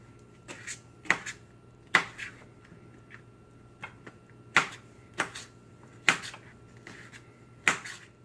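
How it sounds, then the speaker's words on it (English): A knife rough-chopping vegetables on a cutting board gives sharp, separate clacks every second or so in an uneven rhythm. The cuts are close and crisp against a quiet background. "Just a rough chop."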